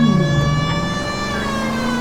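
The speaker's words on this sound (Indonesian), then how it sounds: "Kita nyalain lagi sirine." A police car siren in the video game LA Noire wails steadily and loudly for the whole stretch, its pitch gliding slowly upward under a low engine rumble.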